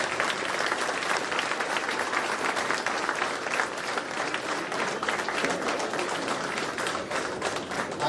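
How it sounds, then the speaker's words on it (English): Steady applause fills a room at a women's talent council celebration, many hands clapping evenly at moderate loudness for eight seconds without speech. "we should give a big round of applause for all the floor members"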